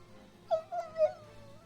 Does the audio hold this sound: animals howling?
yes